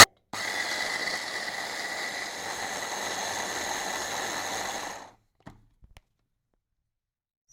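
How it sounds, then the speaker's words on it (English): A blender whirs steadily through basil pesto sauce seasoned with salt for about five seconds, a loud, even buzzing roar that cuts off abruptly, followed by a few faint clicks. "Now I'm just going to blend it."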